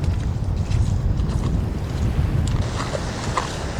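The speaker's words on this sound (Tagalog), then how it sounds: "Ang lakas ng hangin, grabe." Strong wind during heavy rain in Zambales buffets the microphone in a steady low roar, with gusts rising and falling throughout and no voices.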